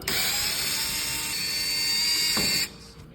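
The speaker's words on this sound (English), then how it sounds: "Then take these screws out." A power screwdriver backs screws out of a stove panel while repairing a stove igniter, a steady high-pitched motor whine running for over two seconds before cutting off abruptly, close and loud with no talking.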